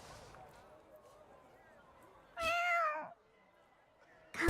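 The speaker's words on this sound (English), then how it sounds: "Pretty good meow." A cat gives a single clear, medium-length meow at close range in an otherwise quiet scene, with soft background tones before it and a brief noise right at the end.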